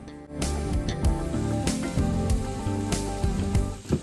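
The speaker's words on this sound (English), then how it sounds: "We're gonna add a little bit of W sauce and get these sauteed" Chopped onions and celery sauté in a pan with Worcestershire sauce for a shepherd's pie, giving a close, steady sizzle broken by repeated clattering stirs and knocks.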